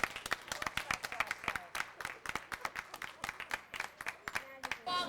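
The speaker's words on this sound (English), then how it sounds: "the bakers deserve a big round of applause from everyone" Applause for the bakers at a 1999 fair, a crowd clapping in loose rhythmic bursts close by, with voices briefly talking near the end.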